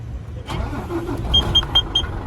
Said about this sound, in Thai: เดี๋ยวมาสตาร์ทฟังเครื่อง